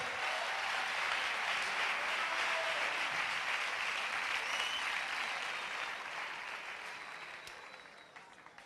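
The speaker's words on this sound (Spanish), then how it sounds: "Dale un aplauso a la palabra de Dios." A church congregation applauds during a Spanish-language service, a dense, sustained wash of clapping from many hands that holds steady, then slowly fades toward the end.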